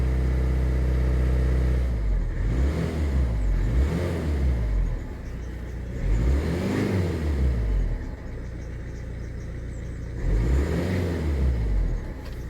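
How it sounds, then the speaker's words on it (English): A Citroen Picasso diesel engine cranks and catches after a filter replacement, then settles into a loud, steady idle with a rumbling rhythm that swells and dips several times, heard up close with no talking. "I'm gonna start it now. Okay, there it started."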